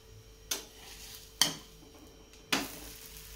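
Food turning over in a hot frying pan for a breakfast dish: three sharp spatula knocks and scrapes, evenly spaced, over a faint low sizzle, with no talking.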